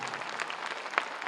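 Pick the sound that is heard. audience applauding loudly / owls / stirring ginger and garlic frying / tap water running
audience applauding loudly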